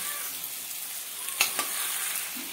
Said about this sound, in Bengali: এখানে মটনগুলো নিয়ে মশলার মধ্যে দিয়ে দিচ্ছি